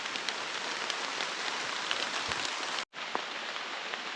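Steady rain falls outdoors as a close, even hiss of drops on surfaces, broken by one brief dropout before it resumes.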